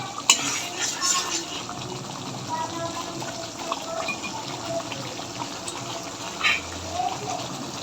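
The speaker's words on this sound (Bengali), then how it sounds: "আমি ভালোভাবে কষিয়ে নিচ্ছি মশলাটা।" Spice paste with tomato sauce being stirred and fried in a pan for home-style chicken biryani, a steady close scraping and soft sizzle with occasional clinks of the spoon against the pan.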